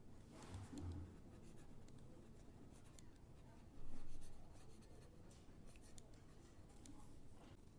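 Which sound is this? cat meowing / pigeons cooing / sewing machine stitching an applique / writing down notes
writing down notes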